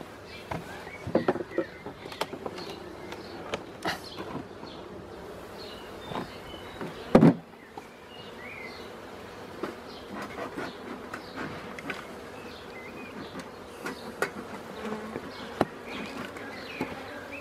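Honey supers lifted off a beehive during queen rearing, with a steady close hum of many bees and a single sharp knock of hive woodwork midway, no talk.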